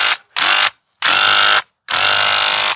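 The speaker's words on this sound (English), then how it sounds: "Now I'm spraying that away." Three loud hissing bursts from a Graco TrueCoat 360 paint sprayer, each about half a second long with short silent gaps between, close and unaccompanied by speech.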